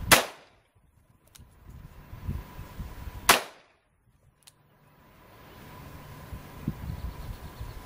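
A Taurus Judge Public Defender Poly revolver fires two sharp, loud shots about three seconds apart outdoors, each cracking sharply and then decaying, with quiet handling noise and faint wind between.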